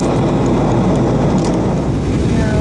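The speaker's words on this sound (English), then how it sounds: "that's actually rain splashing against the plane" Rain splashes against an airliner during its descent into New York, a dense, loud broadband rush blended with steady cabin and engine roar, unbroken throughout.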